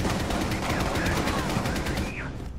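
Rapid automatic gunfire in Rainbow Six Siege cracks in a dense, fast rhythm, loud and close, with a voice faintly underneath.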